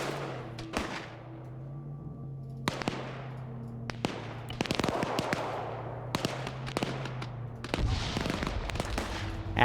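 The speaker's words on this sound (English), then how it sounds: "that machine gunner up there spotted them" Machine gun fire in a drone-recovery war video game: sharp, crackling bursts of shots at irregular intervals over a steady low engine-like hum, fairly close and loud.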